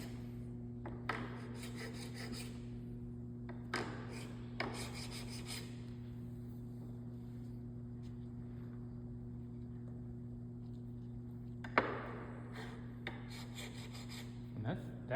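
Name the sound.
honing a hollow chisel burr on a diamond stone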